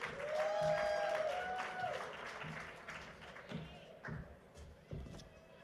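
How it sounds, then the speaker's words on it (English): A conference audience applauds as moderator Jenny Lamboy is welcomed to the stage, with scattered claps heard fairly close. A faint tonal sound rings out at the start, and the clapping thins out toward the end. "Give her a round of applause"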